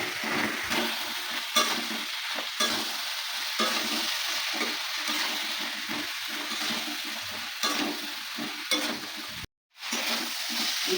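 Eggplant and potato stirred and fried in a spiced curry masala, a steady close sizzle broken by repeated scraping strokes of the spoon, with a brief gap near the end.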